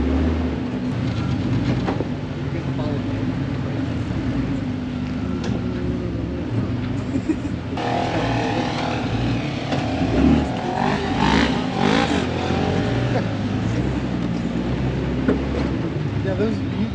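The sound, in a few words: Jeep driving at mud bog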